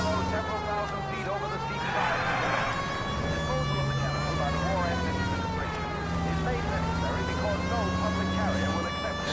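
Police car siren in the video game L.A. Noire, a continuous wailing tone rising and falling steadily, loud and close throughout under engine noise and game sounds, with voices talking over it.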